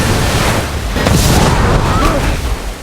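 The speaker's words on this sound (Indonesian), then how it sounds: "Jacob akhirnya meledak sendiri setelah buaya pintar itu berhasil kabur." A hunter blows himself up in a crocodile movie, a loud, dense blast of rumbling noise that sustains for a few seconds rather than a single sharp crack.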